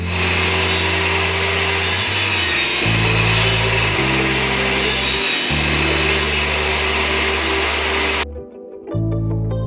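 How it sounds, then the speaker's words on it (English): A saw rasps through plywood in repeated strokes with brief pauses between passes, loud and close, ending with a short quieter tail. "setting up a stop block and then sawing off the length so that all the coasters get to be square"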